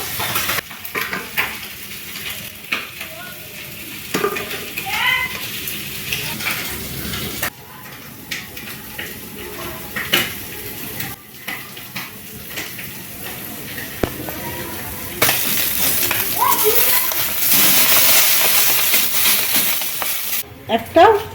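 Small puti fish fry in hot oil in a wok, a loud continuous sizzle with occasional utensil clinks and stirring, growing stronger toward the end, with no talk over it.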